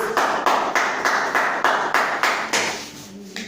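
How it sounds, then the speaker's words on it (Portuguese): Rhythmic clapping at a Portuguese-language church service, steady beats roughly twice per second, fairly loud and close, fading toward the end. "E as palmas do Senhor Jesus"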